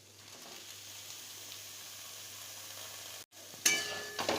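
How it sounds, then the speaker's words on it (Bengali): Potatoes fry in a pan with a steady, soft sizzle throughout, broken by a brief gap and followed by a few louder stirring scrapes near the end. "আলুটাকে না আগে একটু ভেজে নিলাম,"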